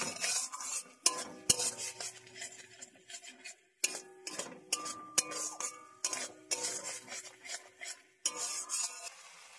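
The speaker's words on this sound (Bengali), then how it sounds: "খুন্তির সাহায্যে আমি এইভাবে ভালো করে মশলাটাকে কষিয়ে নেব" A spatula scrapes and knocks around a pan while a masala of coconut paste, poppy seed paste and a little sugar is stirred, coming in irregular clattering strokes with brief pauses between them.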